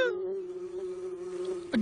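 A cartoon bee buzzes in an animated Winnie the Pooh film, a steady, close, tonal drone held throughout with a slight wavering, ending in a brief clatter.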